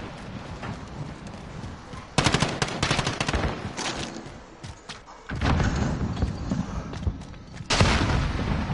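Gunfire from the video game Call of Duty: Modern Warfare, with loud bursts of automatic fire and sharp shots in dense rapid clusters that start and stop abruptly, heavy booms mixed in, over a steady game background.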